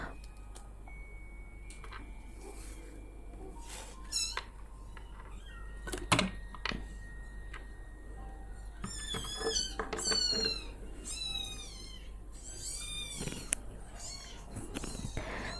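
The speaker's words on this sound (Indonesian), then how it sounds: "anak kucing ya, kucingku habis melahirkan." Newborn kittens mew in a string of thin, high, rising cries, several clustered close together in the middle of the stretch over a low steady hum, with a few soft knocks and a faint purr.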